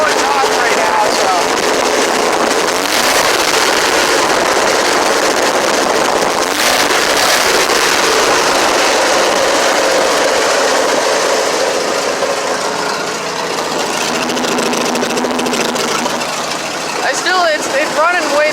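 The newly swapped engine of a car sitting with its hood still off runs close by, loud and aggressive, with an uneven idle and occasional revving throughout, while a person talks faintly beneath the engine noise.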